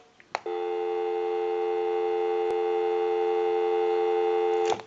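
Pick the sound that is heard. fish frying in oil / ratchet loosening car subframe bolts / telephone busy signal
telephone busy signal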